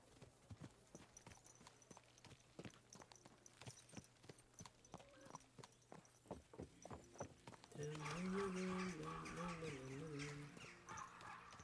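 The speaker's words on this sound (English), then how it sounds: "Quiet now, horsey. I'll take you back to Yezhak, but you have to be quiet." Horse hooves clip-clopping at a walk in the video game Kingdom Come Deliverance II, a soft, regular, close pattern, with a voice speaking over part of it and music rising later.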